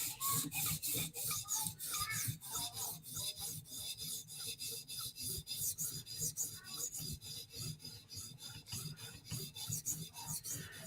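A knife edge is stroked back and forth on a 400 grit sharpening stone, a close, steady rasping scrape repeated in quick even passes for the whole stretch, with no voices.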